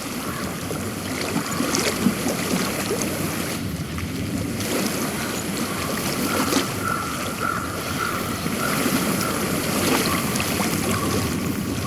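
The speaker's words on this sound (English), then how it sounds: "I hear water." A flowing stream in the video game Hellblade: Senua's Sacrifice makes a steady, broadband rush and wash that continues evenly throughout, with no speech over it.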